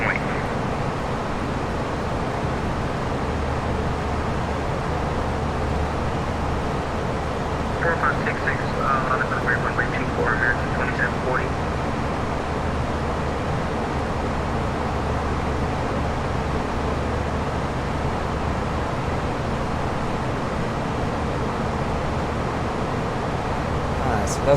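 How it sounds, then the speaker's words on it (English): Steady broadband wind and airflow rush in the X-Plane 11 flight simulator, flying a FlightFactor A320 in climb. The broad, even roar holds at constant loudness throughout, with faint brief tones partway through. "Let's tune this wind sound down some."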